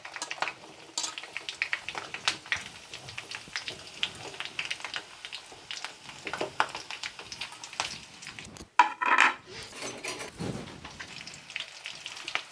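Chopped onions fry in oil over a low flame for a hair oil preparation, giving a soft, steady crackle with scattered light pops and a brief louder rustle near the end, with no voices.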